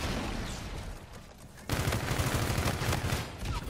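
Rapid bursts of gunfire in the shooter game Infinite Warfare, dense and sustained across the clip, growing louder partway through, with no talk over it.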